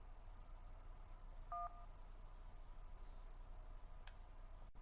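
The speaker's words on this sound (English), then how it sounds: "If you can't talk, please press any digit on your phone" A single phone keypad digit tone in the video game 911 Operator, a brief two-note electronic beep sounding once over a steady low hum, with no talking.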